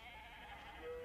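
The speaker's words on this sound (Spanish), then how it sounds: "Vivimos en una granja y tenemos muchas ovejas y ovejitas." Sheep bleating on a farm, a steady close chorus of voiced bleats running through the whole short stretch at moderate loudness.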